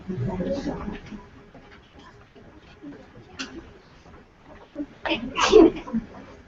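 A person sneezes nearby during a conversation about adopting pit bulls and other dogs, a sharp burst near the end following earlier talk.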